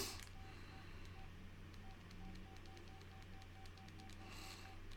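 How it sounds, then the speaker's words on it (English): A telephone being dialed or ringing out gives a steady train of short, evenly spaced beeps over a low constant hum, fairly faint and with no talking. "I should call Brian"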